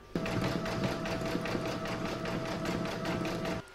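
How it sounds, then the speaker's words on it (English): An in-the-hoop embroidery machine stitches a satin stitch border around the centre of a table topper, a loud, close, steady rapid whirring chatter with a constant hum that runs without a break and then stops abruptly. "round number 14, which is going to stitch the satin stitch border around the centre"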